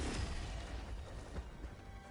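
Explosions from an orbital strike in Helldivers 2, a dense rumbling barrage of booms and crashes that fills the whole stretch, loud and continuous with no voices over it.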